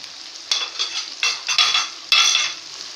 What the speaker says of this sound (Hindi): थोड़ा सा फ्राई करें इन्हें हम।